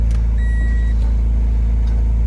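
A JDM Honda Integra, rarely driven and parked in a driveway, runs with a steady, loud, close engine drone throughout, with brief light ticks over it.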